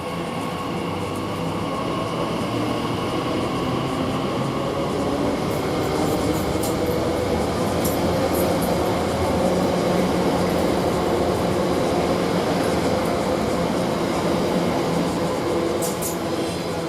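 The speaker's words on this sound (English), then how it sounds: "And now we get this other Elizabeth line train, which is now the 1211 to Heathrow Airport Terminal 5" An Elizabeth line train at Shenfield station, the service to Heathrow Airport Terminal 5, rumbles steadily and loudly nearby, with a constant hum and faint high squeals and clicks from the rails throughout.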